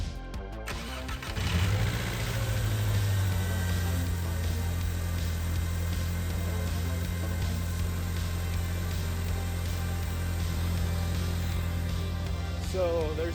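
A 20-year-old VW GTI with a loose negative battery terminal cranks briefly, catches and settles into a steady idle, the engine running continuously and close by with no talking.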